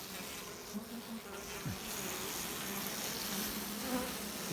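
Honeybees buzz steadily in a winter hive, a low, continuous drone with brief louder swells, and no talking.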